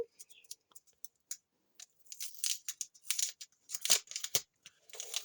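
A paper surprise package is torn and unwrapped with bursts of crinkling and ripping, quiet and close, sparse at first and then busier in several short rustling bursts.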